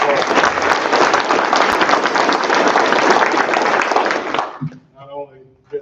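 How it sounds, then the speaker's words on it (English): A graduation crowd gives a sustained round of applause for Mr. Garrett, dense clapping filling the room for about four seconds before cutting off abruptly, followed by a voice speaking. "Let's give Mr. Garrett another round of applause."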